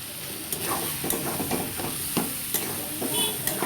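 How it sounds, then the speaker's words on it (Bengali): Grated coconut being stirred into taro leaves frying in a pan, with soft scraping strokes at an irregular pace over a steady low sizzle, close and without voices. "ভালো করে নাড়তে হবে।"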